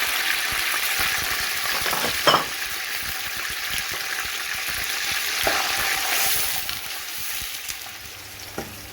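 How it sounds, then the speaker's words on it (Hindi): Chopped onions hitting hot oil in a pot with meat, a loud continuous sizzle with occasional stirring scrapes and bursts of spattering, close and unaccompanied by speech. "अब हम इसमें डालेंगे प्याज।"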